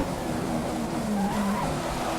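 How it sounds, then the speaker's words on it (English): An F1 car locking its tyres under braking in F1 2015, a squealing skid with a wavering tonal screech riding over steady engine and road roar, close and continuous. "Just another lock up there."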